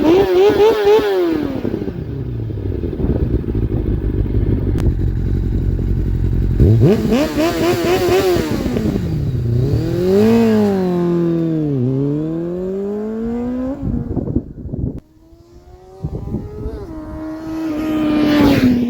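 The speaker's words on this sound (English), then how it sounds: "let's get the bike started and see how it sounds." A 2001 Kawasaki ZX6R motorcycle fitted with a Micron exhaust idles loudly up close, then is revved repeatedly in rising and falling sweeps, with a brief dip before settling back to a steady idle.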